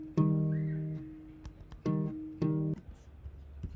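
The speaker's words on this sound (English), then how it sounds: "So what I added was a guitar," Unprocessed guitar in an indie pop pre-chorus, strummed chords in a few separate bursts that each ring and sustain before stopping, with short gaps between them, clear and close with no talking.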